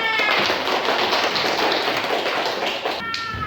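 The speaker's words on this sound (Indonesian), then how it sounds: "Tepuk tangan" Children clap their hands together in a classroom, a dense, steady burst of many small hands patting at once that carries on for a few seconds before breaking off near the end.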